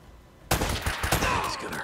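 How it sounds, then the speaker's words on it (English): Enemy gunfire in Uncharted: Drake's Fortune, a sudden loud volley of rapid shots that starts abruptly and keeps rattling close by, with no talk over it. "This guy's trying to shoot me."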